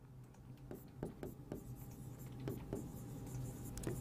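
A teacher writes a word on a classroom board in quick, scratchy strokes, a series of short taps and scrapes at an uneven rhythm under a low background hum.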